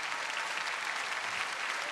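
Dense, steady crowd applause fills the hall for a Chinese pole circus act at a televised Picardie talent show marking France 3 Picardie's 50th anniversary, loud and continuous throughout with no pauses.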